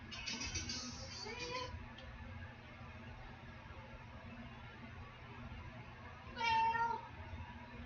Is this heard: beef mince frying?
no